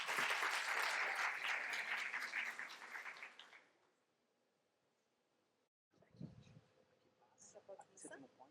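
A conference audience applauds loudly for a few seconds, then fades to near silence before a speaker begins talking.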